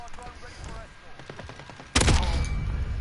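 Gunfire in the video game Modern Warfare erupts as a loud, dense burst of rapid shots at the two-second mark and keeps rattling to the end, after a quieter stretch of game ambience with faint talk.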